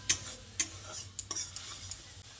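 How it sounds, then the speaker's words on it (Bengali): A spatula scrapes and taps as a ginger and tomato spice paste is stirred and sautéed in a pan, soft sizzling underneath with several sharp scraping knocks at irregular intervals. "মিক্সির বাটি ধোয়া জলটা দিয়ে আবারও আদা ও টমেটোটাকে খুব ভালোভাবে কষিয়ে নিতে হবে"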